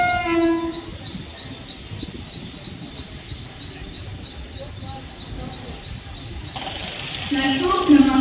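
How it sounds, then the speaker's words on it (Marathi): A Mumbai slow local train bound for Kalyan pulls into platform 1 of a busy station. A steady rolling rumble is broken by a short horn near the start and a rising squeal toward the end, with faint voices in the background. "11:05 की कल्याण जाने वाली धीमी लोकल थोड़े ही समय में प्लेटफॉर्म क्रमांक 1 पर आ रही है।"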